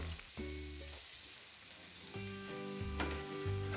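A rib steak (côte à l'os) sears in a hot pan with a little oil, its steady loud sizzle broken by clatter as the meat is turned over, with lower thuds of the pan around the flip.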